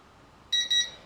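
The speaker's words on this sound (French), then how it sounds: "Ce deuxième bip, en fait, c'est le réglage du gyroscope." The remote controller of a JJRC JJPRO X3 GPS drone gives two short, high electronic beeps in quick succession over a quiet, faint background hiss. The second beep follows almost immediately after the first.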